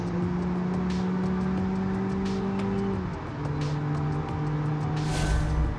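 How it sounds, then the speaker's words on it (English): A car with a Nissan A10 engine, built as an engine replica for BeamNG.Drive, drones loudly and steadily near the listener, its engine pitch holding then shifting as it runs on a track, with faint tire noise. "So this is the Nissan A10 engine."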